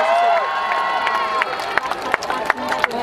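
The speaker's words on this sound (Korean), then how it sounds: "박수를 함께 해주세요." At an outdoor K-pop concert in Guro, a crowd cheers as a girl group's stage is introduced. High shouts and squeals rise over sparse, sharp claps, and a few louder claps stand out toward the end.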